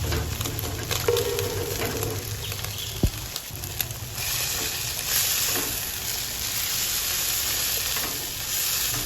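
Egg and kangkong fry in a hot pan with a steady, close sizzle, interrupted briefly by a sharp clink of a utensil before the sizzling swells and continues.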